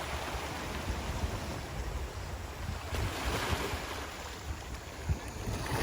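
Sea waves washing into the Ryugu sea cave in Shizuoka, a steady broadband roar of surf mixed with wind buffeting the microphone, continuous and fairly loud with no voices.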